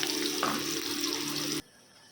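Mustard oil sizzling in a pan, a steady bright hiss heard close up that stops abruptly near the end.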